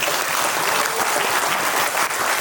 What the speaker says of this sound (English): So let's give a big applause for grand success of the event.